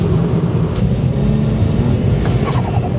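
A BMW 335i E90 with the N55 engine accelerates hard on a wet road, a loud, continuous engine roar close by with faint tire noise and no talk.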